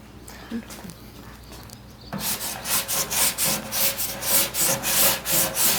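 Medium grit sandpaper block rubbed by hand across wood, producing a steady series of rhythmic rasping strokes after a couple of quiet seconds, close and fairly loud.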